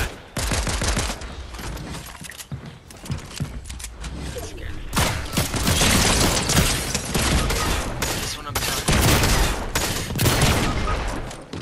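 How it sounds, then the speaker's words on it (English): Shotgun fire in the video game Fortnite: loud, repeated blasts mixed with rapid gunfire and scraping, building mechanisms, dense and close throughout, with no clear pauses. "I just hit him with the shotgun."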